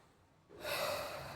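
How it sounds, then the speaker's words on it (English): A person with sickle cell disease takes a sharp, audible breath, one close, breathy intake that swells suddenly after a quiet moment and then holds for a beat. "I tend to get tired when I walk around too much, and it affects my chest. I breathe hard."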